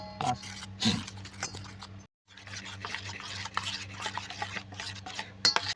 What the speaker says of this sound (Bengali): এদিকে আমি ব্যাটারটা তৈরি করে নেব বেগুনির জন্য